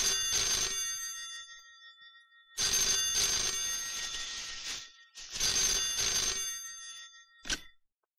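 A telephone rings late at night in a Hindi film scene, loud repeated bell bursts separated by short silences, three long rings and a brief final one, with no voices over it.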